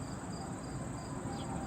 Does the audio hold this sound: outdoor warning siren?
no